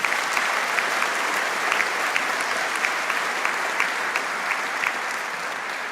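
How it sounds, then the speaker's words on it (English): Steady applause from a seated audience at a university convocation ceremony, a dense even patter of many hands that continues unbroken and eases off slightly toward the end. "Can we give them a round of applause for that?"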